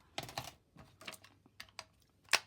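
Tape is peeled off a stamped card panel in a series of quiet, brief crackling rips, ending in one sharper, louder pull.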